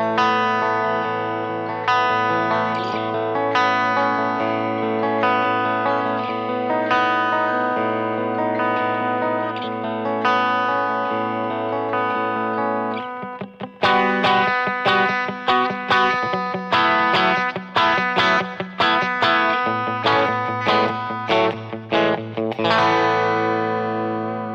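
Dean MAB 1 Armorflame electric guitar played with the 81 and SA pickups combined, heavily effected with distortion and chorus: sustained chords ring for about thirteen seconds, then a run of sharp, rapid picked notes, loud and close with no talking.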